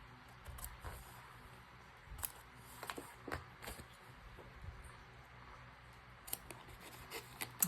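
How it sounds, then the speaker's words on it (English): Scissors snip the corners off sheets of paper, giving a few faint, crisp, close-up cuts with soft handling rustles between them and no talking. "I'll start with cutting these corners off."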